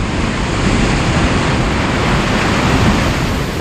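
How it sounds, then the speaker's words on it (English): Hawaiian ocean waves dump hard onto a steep lava reef, a loud, continuous roar of crashing surf with wind noise and no pauses. "These Hawaiian waves are crashing straight onto a lava reef with a very steep slope."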